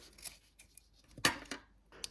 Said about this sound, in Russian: И большими ножницами вот так сначала самое крупное все